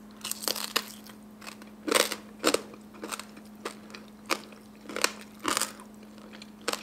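Close, loud crunching and chewing of crispy pork skin eaten with spicy papaya salad, with repeated crisp bites in an uneven rhythm and no talking.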